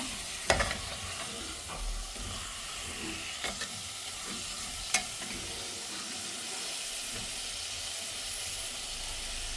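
Minced meat keema frying in a pan for an easy keema curry, a steady sizzle and hiss running throughout, with a few scraping stirs and clanks of a spoon against the pan, close and without talk.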